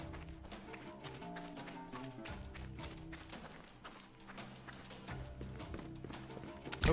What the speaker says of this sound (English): Hopefully you can hear like footsteps and stuff pretty well.